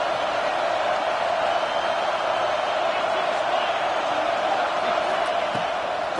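Football stadium crowd roaring behind the defense on a big third down in Arkansas vs Washington, a dense steady wash of distant cheering with a commentator talking over it.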